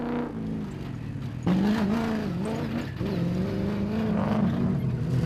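Atlas Copco Ford production-category rally car at the Toyota Dealer 450 2014, its engine droning and rising in pitch as it accelerates, loud and near, with revs climbing and shifting through gears.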